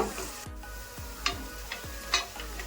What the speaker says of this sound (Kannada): ಈರುಳ್ಳಿ ಒಂದ್ ಸ್ವಲ್ಪ ಫ್ರೈ ಆಗಬೇಕು